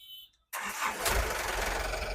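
A used 2019-model 12-foot truck engine cranks and fires after a brief quiet moment, then settles straight into a loud, steady, close-up running rumble.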